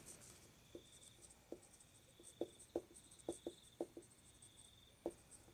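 Chalk or marker tapping and scratching on a board during a calculus lesson: a series of short, sharp ticks and strokes in irregular rhythm, close and fairly quiet, with faint background hiss and no talk.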